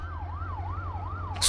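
Wailing police car siren from the BeamNG driving game, a steady up-and-down sweep cycling about every half second, loud and close over a low engine drone, with a brief burst of noise at the end.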